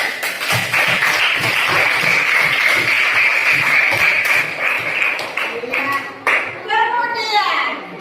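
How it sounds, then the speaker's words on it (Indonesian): Young pupils in an Islamic primary classroom clap their hands together in a steady, loud burst of applause that fills most of the moment, with a teacher and children speaking over it near the end. "Tepuk tangannya."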